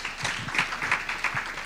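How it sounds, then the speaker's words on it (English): A short burst of applause for the panelists at a technology and gender equity panel event, scattered clapping from a modest audience. "A massive round of applause for all our panelists"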